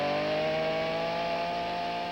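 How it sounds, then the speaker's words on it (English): Chainsaw used for carving wood sculptures, a steady sustained engine drone with a strong tonal whine holding level throughout, loud and continuous with no pauses. "Elvin has thrown out the age-old pocket knife in favor of a much more delicate tool, the chainsaw."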